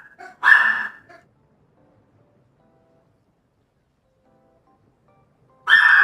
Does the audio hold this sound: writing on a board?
no